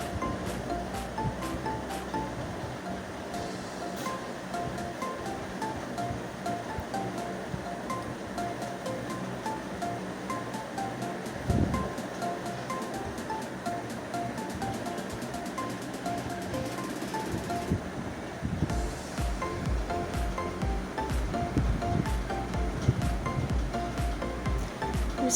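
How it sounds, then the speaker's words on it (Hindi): Masala paste with ground poppy seeds fries in a pan for bagare baingan, giving a steady, even sizzle that continues throughout with only small swells. "मसाला अच्छी तरह भून लें।"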